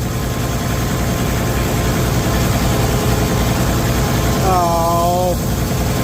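Allis/Buda D19 turbo diesel engine idling on its first start after an overhaul, a loud, steady, low rumble running throughout, with a brief rising whine near the end.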